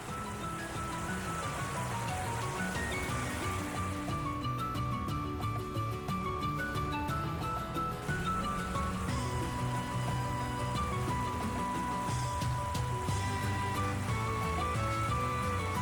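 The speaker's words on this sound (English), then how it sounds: "It's really coming down hard." Heavy rain pours steadily in the Ys X Nordics game scene near a ship, a dense continuous hiss layered under music, holding an even level throughout with no talk.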